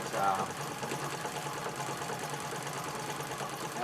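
A Singer 66 treadle sewing machine runs in a parlor cabinet, giving a steady mechanical whir with a faint rhythmic clatter throughout, close and moderately loud, under a speaking voice.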